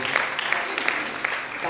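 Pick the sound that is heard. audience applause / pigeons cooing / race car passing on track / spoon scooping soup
audience applause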